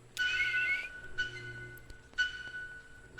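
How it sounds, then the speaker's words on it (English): A character in the video game Kentucky Route Zero blows on whistles, giving three separate shrill blasts with short gaps between them. The blasts are moderately quiet, with a faint low hum underneath. "Conway spits, whistles, blows on the whistles."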